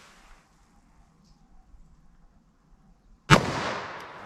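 A single sharp .357 Magnum gunshot fired into denim over MDF cracks loudly outdoors after a few seconds of quiet background, followed by a short decaying echo.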